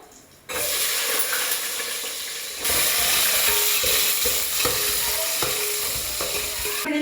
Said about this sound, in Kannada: ನೆಕ್ಸ್ಟ್ ಇದಾದ್ಮೇಲೆ ನಾನು ಆನಿಯನ್ ಆ್ಯಡ್ ಮಾಡ್ತೀನಿ ಒಗ್ಗರಣೆಗೆ